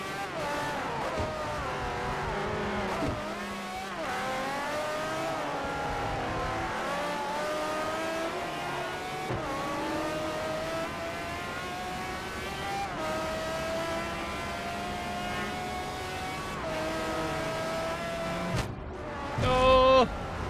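Race cars in Forza Motorsport 4, including a Pagani Zonda R, a Mercedes touring car and an Audi R15 TDI, droning steadily through revs and gear changes for a long stretch, loud and close, with a sharper burst near the end.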